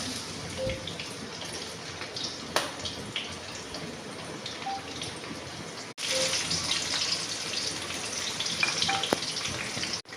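Cumin seeds and garlic dropped into hot oil, a steady hissing sizzle with scattered pops and a brief thump midway, fairly quiet and close.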